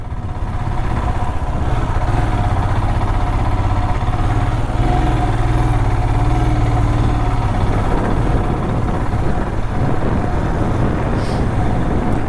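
A motorbike engine labours steadily uphill on a sloped road near the Kodaikanal dolphin viewpoint, a loud continuous close-up drone with some rhythmic throb and no speech.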